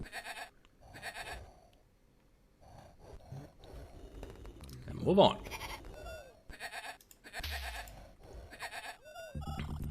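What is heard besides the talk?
sheep bleating in Powermonger Amiga video game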